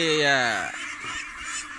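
Ducks calling on a duck farm, a loud nearby nasal honking call with descending pitch followed by softer squawks and background bird chatter.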